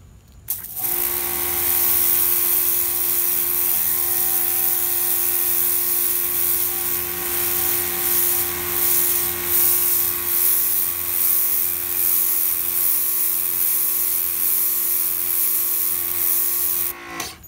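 A Ryobi 2000 PSI electric pressure washer spraying: a steady loud motor whine with a hissing water jet running continuously for most of the clip, starting and stopping abruptly at either end, with no talking.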